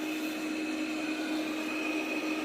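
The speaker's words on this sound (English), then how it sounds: "Vacuuming and mopping all is starting." A robot vacuum cleaner runs over carpet, giving a steady whirring motor hum with a high whine that holds even and unbroken throughout, with no voices.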